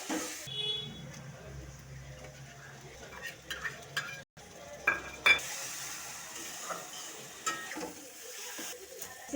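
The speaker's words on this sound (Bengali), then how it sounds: "মশলা ভাজা হয়ে গেছে" Spices frying in a pan: ground cumin and coriander, turmeric, chilli, garlic and a pinch of asafoetida, heard as soft sizzling and stirring with scraping and light clinks of utensils against the pan.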